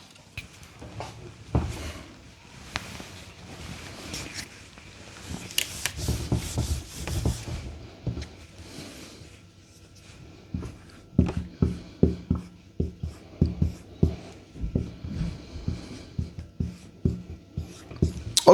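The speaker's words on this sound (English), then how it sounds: "Let me write it down." Handwriting on paper, close and intimate, starting with soft rubbing strokes and then turning into a rhythmic series of firm scratchy strokes, repeated marks with short gaps between them, no one talking.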